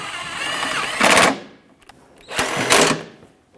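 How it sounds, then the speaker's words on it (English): A power tool snugs up the mounting bolts of a windshield washer tank on a Dodge Grand Caravan, in two short rattling bursts over a background machine hum. "start in the bolts and snug them up"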